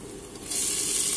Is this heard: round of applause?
no